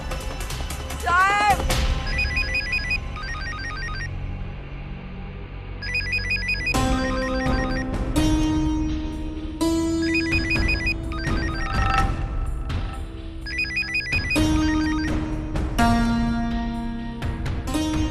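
A telephone rings in a Hindi TV drama, a repeating electronic ringtone in bursts over dramatic music and sound effects, moderately loud and persistent throughout.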